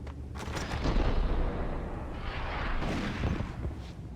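Continuous gunfire in the Max Payne video game, a dense rumbling stream of shots and booms that stays loud and roughly steady throughout.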